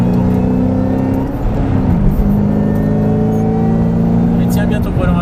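A Ford Mustang GT500 on a track with its engine droning and climbing in pitch as it revs hard down a straight, a loud, steady, close in-car roar with an instructor talking over it.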